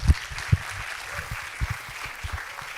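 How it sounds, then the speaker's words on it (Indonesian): Audience at a campus seminar clapping, a thin, steady patter of scattered hands with a few louder claps standing out, fairly close and continuing throughout with no talk over it. "Tepuk tangannya buat Kak Agam."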